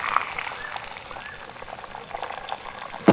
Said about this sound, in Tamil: இப்போ நல்லா பொரிஞ்சிருச்சு.